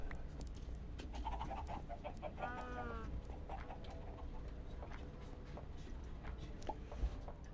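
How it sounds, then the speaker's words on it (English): Chickens in the Minecraft modpack Stoneblock 3 give a few soft, scattered clucks and a brief warbling call, faint and distant against a quiet game background. "Let's go check on the chickens"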